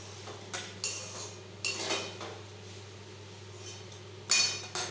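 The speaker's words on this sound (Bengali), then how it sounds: "প্রথমে আমি কিছুটা পরিমাণ ভাত তেলের মধ্যে দিয়ে একটু নাড়াচাড়া করে নেব।" Cooked rice tossed in hot oil in a wok for fried rice, with a few quiet metal spatula clinks and scrapes against the pan over a low steady hum, close and sparse.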